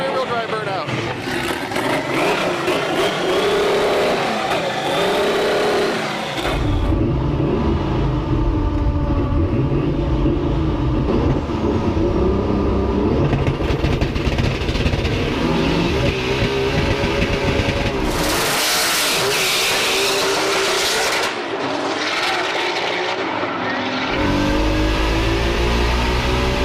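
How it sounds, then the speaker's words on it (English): A twin-engine turbocharged drag car roars through a front-wheel-drive burnout, then a rear-wheel-drive burnout and a hard run, its engine noise loud, dense and unbroken, with voices mixed in. "Front wheel drive burnout, then rear wheel drive burnout."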